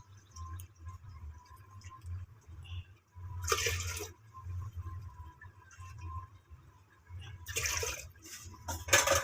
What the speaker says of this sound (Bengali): হালকা উমা গরম পানি দিচ্ছ?